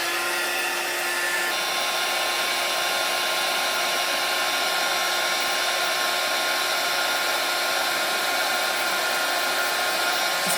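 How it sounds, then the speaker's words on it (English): A heat tool blows steadily to melt embossing powder on an ocean-themed handmade card, a continuous close, loud airy whoosh like a hair dryer that runs alone the whole time with no talking. "And keep your heat tool moving."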